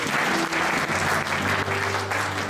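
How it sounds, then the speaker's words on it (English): Congregation clapping in praise during a church service, a dense steady burst of many hands filling the room, with faint organ or keyboard tones sustained beneath. "Let's give the Lord a clap of praise."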